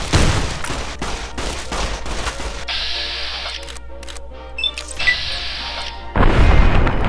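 Gunfire in the video game Fallout: New Vegas: a rapid volley of loud shots at the start, then quieter electronic tones and clicks, followed by another burst of loud firing at the end.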